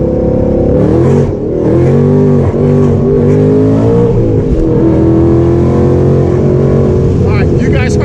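An 800whp Ford Mustang accelerating hard with wheelspin, its engine revving loud and close through rising pitch sweeps as it shifts from second to third, with a voice talking over it.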